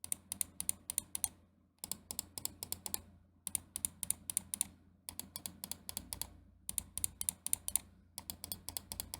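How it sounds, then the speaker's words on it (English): Main buttons of a Lemokey G2 gaming mouse with Huano blue shell pink dot switches clicking in quick bursts of about five to eight crisp, sharp clicks, with short pauses between bursts, close up and alone. "In terms of the main click sound here, I'll give you a quick little sound test."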